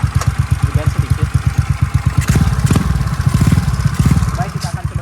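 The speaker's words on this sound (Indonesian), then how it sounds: "Kalau misalnya lagi idle tidak terlalu berisik. Kita akan coba geber sedikit." A modified Yamaha Mio scooter with an aftermarket exhaust idles with a steady rapid putter, then is blipped into short revs that swell and fall back, loud and close, with someone talking over it.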